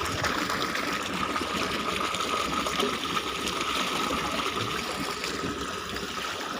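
River water flowing steadily in an outdoor village setting, a continuous broadband rush that stays even and fairly close throughout, with no voices.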